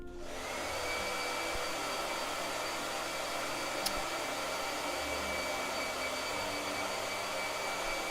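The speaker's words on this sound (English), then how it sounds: "Blow dryer." A blow dryer runs steadily and loudly for the whole stretch, a constant broadband whoosh with a faint high whine, close by in a home painting session.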